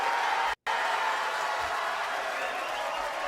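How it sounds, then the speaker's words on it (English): A small group applauds a guest on a horror film chat show, a faint, even patter of clapping with a short dropout early on, heard alone without talk. "So let's give him a round of applause."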